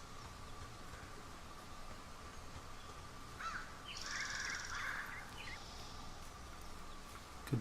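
Crow caws in the Firewatch video game forest, two short harsh bursts in the middle against a steady quiet ambient hiss, fairly distant.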